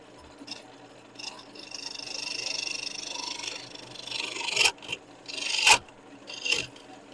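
Bowl gouge cutting wood on a lathe, a steady scraping rasp that swells and fades as the tool engages, with several sharper bursts near the end.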